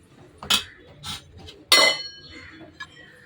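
A metal lid clanks down onto a cooking pot of seeraga samba rice in a home kitchen, two or three sharp near clinks with a softer knock before, no talk.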